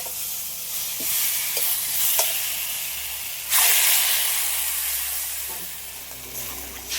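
Water is poured into a sizzling spiced masala with fried potatoes while cooking a snakehead fish curry. A steady hiss and stirring scrapes build into a sudden louder burst of sizzle and steam midway, with no talking.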